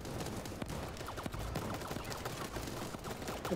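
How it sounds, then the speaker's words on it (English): Explosions and rapid bursts of gunfire in the game Super Animal Royale, a dense, faint crackle of blasts going on continuously in the background. "I hear some bombs around"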